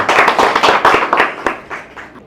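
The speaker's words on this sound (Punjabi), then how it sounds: "ਜ਼ੋਰਦਾਰ ਤਾੜੀਆਂ ਭਰਾ ਲਈ ਆਪਾਂ ਜ਼ਰੂਰ ਲਾਈਏ" A room of students and trainers clapping for a student who sang, a short burst of close, dense applause that tapers off over about two seconds.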